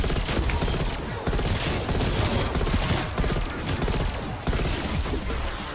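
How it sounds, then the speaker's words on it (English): An M16 Skull Splitter burst rifle in Black Ops Cold War Zombies fires continuously and loudly in rapid three-round bursts, the dense gunfire broken only by very short gaps. "the M16 becomes the Skull Splitter. This is another 3 round burst weapon"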